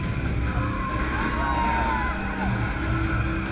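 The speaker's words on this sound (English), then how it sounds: "You can hear the crowd singing along as well as myself" A concert crowd sings along loudly at a show, heard from the photo pit as a dense, steady roar of voices mixed with cheers and the band.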